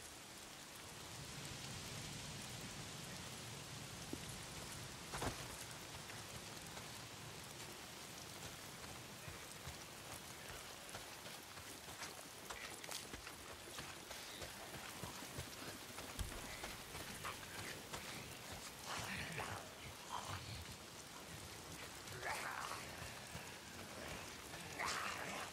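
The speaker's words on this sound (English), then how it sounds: "If it's not the freaks, it's the goddamn rain." Steady rain falls throughout a scene in the video game Days Gone, a dense continuous hiss with occasional louder knocks and rattles, and no talking.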